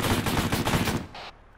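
Rapid automatic gunfire in the military shooter Arma 3, a close, loud burst of about eight quick shots that stops abruptly, followed by a short fading echo.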